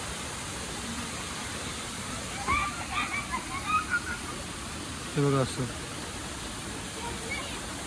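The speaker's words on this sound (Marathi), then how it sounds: "असं हे पाणी खाली जात आहे" A jungle stream near the Kasartaka shrine in Malvan runs downhill in a steady, close rushing wash, with a few faint bird chirps and a man's short remark partway through.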